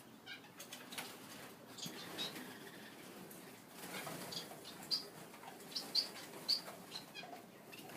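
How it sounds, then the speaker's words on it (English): Baby diamond doves in an aviary with parrots give soft, faint chirps and fluttering, with a few sharper peeps clustered near the end over a quiet, hissy background. "There's 2 baby doves."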